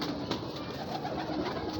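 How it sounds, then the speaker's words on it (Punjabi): Pigeons coo softly in a low repeated pattern, heard faintly against a steady background hiss with no talking. "ਮੁੰਨਾ ਭਾਈ ਜੀ ਇਹ ਵੈਸ਼ੀ ਕਬੂਤਰ ਨੇ,"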